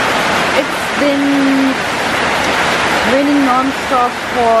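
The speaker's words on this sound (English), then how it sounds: "raining non-stop for 15-16 hours right now" Continuous dense hiss of heavy rain pouring down in the Philippines after 15-16 hours of non-stop rain, with a voice talking briefly over it.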